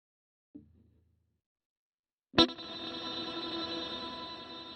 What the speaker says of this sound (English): You can hear the distinct echoes in there.